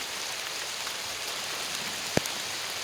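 Steady, even rain patter, a soft broadband wash with no voices, broken once by a single sharp tap near the end.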